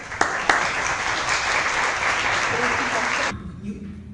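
An audience at an academic talk on asthma applauds to welcome a speaker, a dense, loud clapping that holds steady for about three seconds before cutting off, followed by faint voices.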